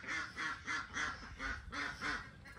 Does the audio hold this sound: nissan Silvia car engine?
no